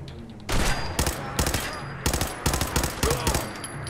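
Gunfire in the VR game Fallout 4 VR: a rapid series of sharp, loud shots arriving in bursts of several quick reports each, with no talking over them.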